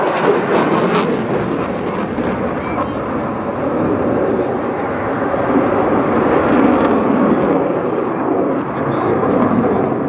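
An RAF Typhoon jet flies an airshow display over the English Riviera, producing a loud, continuous broadband engine roar that swells slightly as it passes, with a commentator talking over it.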